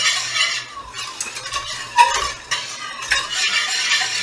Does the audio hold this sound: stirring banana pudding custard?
yes